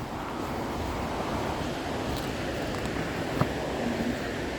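A waterfall near Cookeville, Tennessee gives off a steady, moderately faint rushing roar, heard continuously with a little wind buffeting the microphone.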